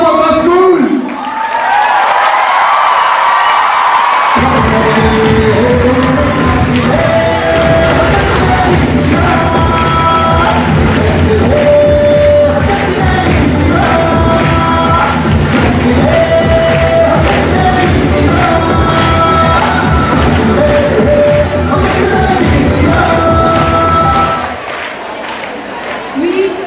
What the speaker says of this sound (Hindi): आपको तालियां बजनी चाहिए और जोर से और तेज